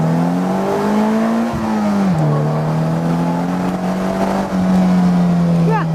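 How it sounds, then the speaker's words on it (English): A Polaris Slingshot floored at full throttle in first gear, its engine droning loud and steady with a falling then rising pitch through the run. The drone sounds close, with no talk over it. "Let's see what happens when I floor it in first gear."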